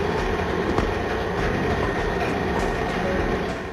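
A subway train rumbles through a New York City subway station in The Fifth Element PlayStation game, a loud, steady roar with faint rhythmic wheel clatter throughout.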